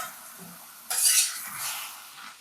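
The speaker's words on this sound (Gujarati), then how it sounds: "આ રીતે મેશરથી થોડું મેશ કરી દઈશું જેથી દાળ અને મસાલા સરસ રીતે મિક્સ થઈ જશે" A hand masher pressing cooked moong dal with spices and a spoonful of chili water into a khasta kachori stuffing, giving a soft scraping, squelching burst partway through with quieter stirring on either side, close and alone.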